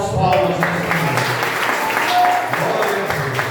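A church congregation claps in praise during a family worship service, a continuous crowd of clapping hands under voices, steady and fairly loud throughout.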